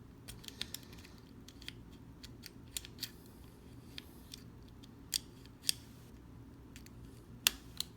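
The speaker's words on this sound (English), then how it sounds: "Raked open. The Omni Card 21." A pick rakes a lock open on an Omni Card 21 card lock, with small metallic clicks and scratches scattered irregularly over a quiet background hiss, faint and close.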